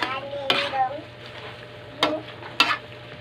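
Chicken curry with ground pepper stirred in a pan: three sharp scraping strokes of a utensil against the pan, close and clear, over a faint low hum with a soft sizzle between strokes.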